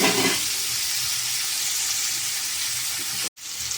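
Dried fish and onions fry in a pan with a steady, broadband sizzle that holds evenly throughout, cut by a brief sharp dropout near the end before the hiss resumes.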